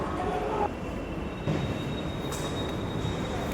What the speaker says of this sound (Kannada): ನಮ್ಮ ಮೆಟ್ರೋ ಇದೇ ನೋಡಿ